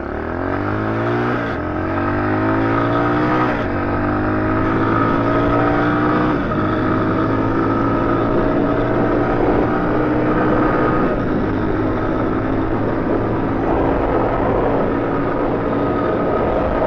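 Stock 2021 Tao TBR7 dual sport motorcycle with a 17.2 sprocket accelerating from 0 to 60, a loud continuous engine drone that climbs in pitch through several gear shifts, with steady wind rush and no talk.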